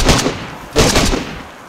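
Gunfire in the zombie survival game DayZ: two loud bursts of shots, one at the start and another just under a second later, each followed by a ringing tail.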